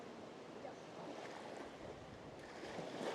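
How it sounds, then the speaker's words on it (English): Strong wind gusting over a bay in the Pelorus Sounds with whitecapped water, a steady broadband roar that swells toward the end, close and loud with buffeting on the microphone. "So that was a big gust"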